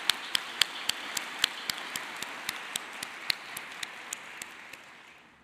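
Steady, evenly paced clapping at a university commencement ceremony sounds over a soft background of crowd applause and gradually fades out, with no one speaking.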